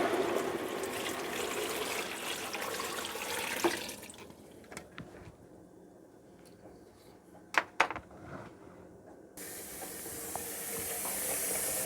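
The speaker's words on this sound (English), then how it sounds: "you want to cover them with water." Water pours into a pot of cut apples being prepared for apple cider: a rushing, hissing stream at the start, a quieter stretch with a few small clunks, then the pouring surges again near the end.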